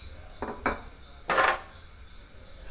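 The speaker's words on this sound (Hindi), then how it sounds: "गैस पे मैं तवा रखी हूँ।" A metal griddle (tawa) is set down on a gas stove in a home kitchen, giving a few light clanks and one louder scraping clatter, close and quiet, with no talk.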